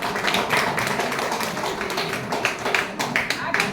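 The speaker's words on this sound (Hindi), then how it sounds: "चलिए बहुत जोरदार तालियां" Enthusiastic group clapping at a Diwali gathering at a Brahma Kumaris centre in Raebareli, loud and close, with uneven bursts of claps and a voice faintly under it.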